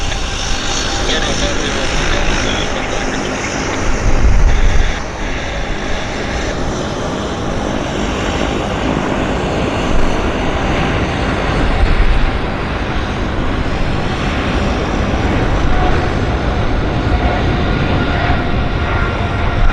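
A Boeing 777 jet at Vancouver Airport starts its takeoff roll, heard from a distance as a steady, loud engine roar with a broad rushing wash and swells in intensity, while a voice talks over it.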